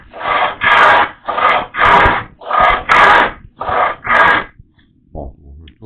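A heavy hand saw cuts a tenon shoulder in wood with eight loud, rhythmic rasping strokes at about two per second, each a broad scratchy burst, followed by a pause and a faint short scrape.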